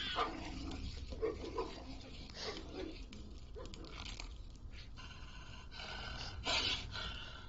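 A dog snorts, huffs and gives short muffled barks nearby, with scuffling noises mixed in and moderate level throughout.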